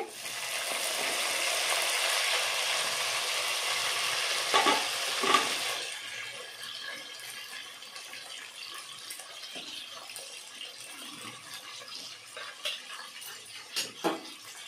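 Onions and green chillies fry in a pan, giving a steady broadband sizzle that is loudest early, then settles into a softer crackle with a few stirring knocks; no one speaks.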